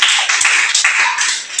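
Brief, dense burst of applause from a classroom audience, loud and continuous for under two seconds.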